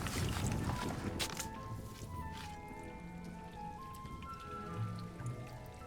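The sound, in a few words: rain pouring on dittany planter in Hogwarts Legacy video game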